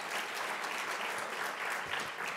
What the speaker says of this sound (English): I think we should just give them an applause right now